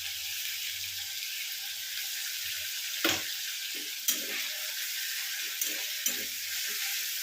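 Crushed ginger frying in a pan makes a constant hiss, with a few soft stirring knocks and taps scattered across it, no speech.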